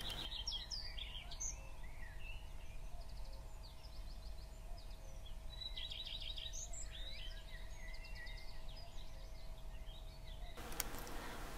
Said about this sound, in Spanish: El cantar de las ranas, los pájaros y los cañizales convierten el ambiente en un remanso de paz en plena ciudad.